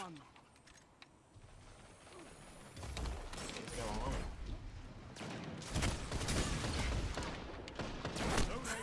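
Rapid bursts of gunfire from the video game Destiny 2 crackle in dense volleys at moderate volume, building toward the end, with background game noise throughout.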